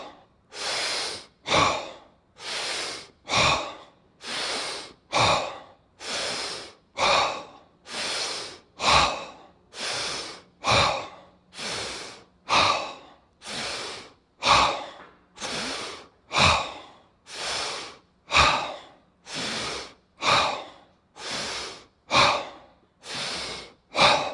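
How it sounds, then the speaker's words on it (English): Deep, rhythmic breathwork: a long run of forceful inhales and exhales in an even cycle, close and clear with no talking. "Last round, we're going to do 15 breaths."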